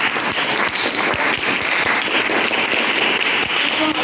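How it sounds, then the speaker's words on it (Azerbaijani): At a school award ceremony for a children's drawing competition, an audience claps in steady, dense applause that continues without a break, loud and close. "Gəlin bir layiq tək alqışlayaq."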